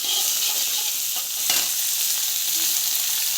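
Red chillies and garlic sauté in hot oil in a pan, giving a steady bright sizzle with a brief stirring scrape partway through, close and alone.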